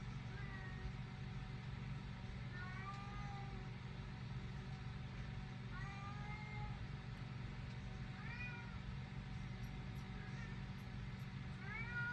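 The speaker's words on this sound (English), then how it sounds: "Cat comes up and starts scratching the back of my chair while I'm sitting in it." A cat meows in short, repeated cries over a constant low engine-like hum, with faint scratching against the back of a chair barely showing through the steady background drone.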